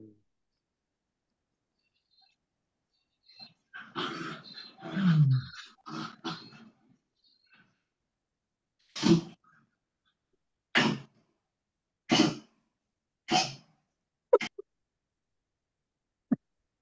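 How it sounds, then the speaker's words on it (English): Several short, sharp sneezes from a dog, spaced a second or two apart, after some quiet snorting and huffing sounds. "Dog sneezing."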